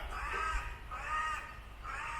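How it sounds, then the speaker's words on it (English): A large crow caws repeatedly in the grounds of a Fife estate in Scotland, three harsh drawn-out calls spaced about a second apart, fairly close and clear against a low outdoor rumble. "And there's a big crow fussing at me."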